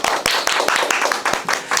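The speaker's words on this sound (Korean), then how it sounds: "박수!" A small group clapping quickly and unevenly, crisp close handclaps over about two seconds with no talking.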